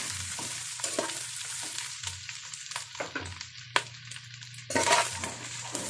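Beef for pares frying in a hot pan, with steady sizzling broken by repeated scraping and stirring strokes and a louder burst of spitting near the end, close and clear with no talk.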